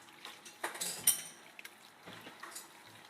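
Utensil stirring salad ingredients in a bowl, with light clinks and scrapes and a few wet mixing sounds, irregular and fairly faint, plus one brighter metallic clink near the middle.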